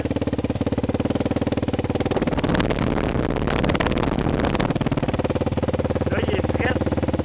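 A Yamaha Raptor 700R ATV engine, cold, starts and runs at a steady, loud, aggressive idle with a rough pulsing throb that swells briefly mid-clip, close by and alone.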